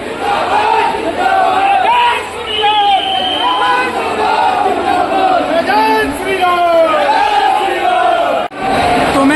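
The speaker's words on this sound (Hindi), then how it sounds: "भीड़ देखिए वंदे भारत एक्सप्रेस के लिए।" A large, loud crowd on a station platform for the inaugural run of the Vande Bharat Express shouts and cheers continuously, many voices rising and falling together up close.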